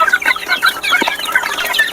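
A gamecock rooster clucks in a small yard, rapid close chattering clucks in a busy run over two seconds, with no voices.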